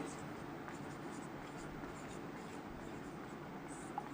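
A pen writes lesson notes on paper. Faint, continuous scratching strokes run under a quiet room hiss.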